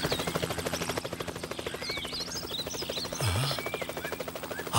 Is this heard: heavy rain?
no